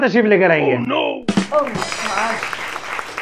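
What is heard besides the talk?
studio audience applause welcoming a guest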